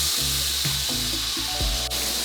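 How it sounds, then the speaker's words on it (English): Chopped onion frying in butter in a hot pan for smothered pork chops, a steady close sizzle with a few stirring scrapes and bursts of crackle, with no talking. "now I'm just caramelizing the onions so they're nice and beautiful"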